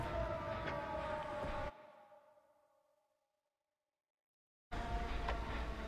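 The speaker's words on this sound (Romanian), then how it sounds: "Cred că auzi sirenele." Droning sirens from the horror game Dead by Daylight wail loudly with steady tones, cut off abruptly, fade into silence, then return just as loud.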